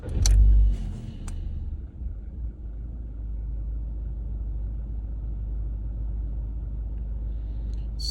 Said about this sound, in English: Let's start the engine and have a look.